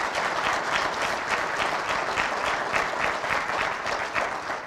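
Sustained audience applause at a speech, dense and even clapping that holds steady throughout without voices on top.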